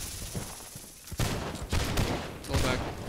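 A line of soldiers fires a musket volley in the Holdfast video game: dense, crackling bursts of gunfire at about 1.2 s and again near 2.5 s, loud and close over faint background noise.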